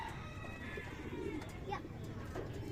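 Young racing pigeons coo softly and far off beneath steady background noise, with children's voices faint nearby.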